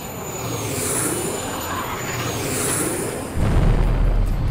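Jet fighter from the 1964 Cyprus air operation climbing to 8,000 feet and diving at 40 degrees, a broad roaring whoosh that swells and fades twice before a heavy low rumble takes over at the end.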